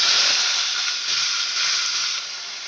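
Onions sizzling loudly as they drop into a hot tempering of mustard seeds, cumin and curry leaves for a mixed vegetable curry, a steady bright hiss that holds throughout with no talking.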